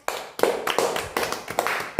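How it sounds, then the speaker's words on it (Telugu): Children clapping in a classroom, a burst of quick, uneven claps repeated several times in close succession over two seconds. "Very good. Give claps."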